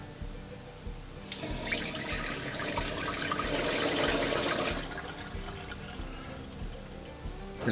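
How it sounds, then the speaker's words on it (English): Water gushes steadily from a newly installed RV kitchen faucet into the sink, a close, full hiss that swells for several seconds before cutting back to a quieter trickle. "And then just flush it out."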